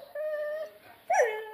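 A dog whimpers indoors in two short, high, wavering whines separated by a brief pause, fairly close and faint, with no talking.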